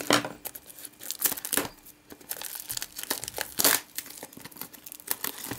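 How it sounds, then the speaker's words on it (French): Plastic wrap being torn and crinkled off Pokémon Platinum card decks (Giratina and Shaymin), with close, irregular bursts of crackling and ripping and a few sharp snips of scissors, no talking. "je vais tout de suite déballer les decks sans plus attendre"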